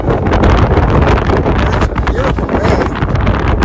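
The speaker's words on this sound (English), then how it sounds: "It's extremely windy." Strong gusting wind buffets the microphone on a steep, loose-surfaced canyon trail near Boulder City, a loud, continuous broadband roar with brief dips in intensity.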